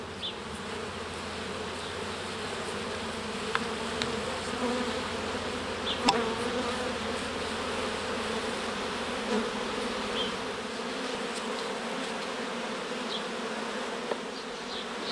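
A dense, steady hum of honeybees buzzing close by as they are shaken from a hive frame, continuous for the whole stretch with a few faint clicks and knocks.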